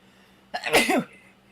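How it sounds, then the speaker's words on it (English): A single sharp sneeze, close and loud, breaking an otherwise quiet room. "I might sneeze."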